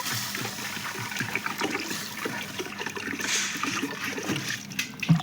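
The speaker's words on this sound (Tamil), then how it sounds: "இப்போ வந்து நம்ம தண்ணி ஆட் பண்ணிக்கலாம் வேணுங்கிற அளவுக்கு" Water is poured into a clay pot of mutton gravy, giving a steady close splashing and trickling that runs the whole time with a small splash at the end.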